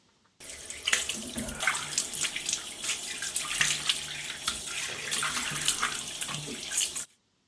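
Tap water runs steadily into a sink for about seven seconds while a face is rinsed, with irregular splashes and hand-scooping spatters over the continuous stream, and no talking.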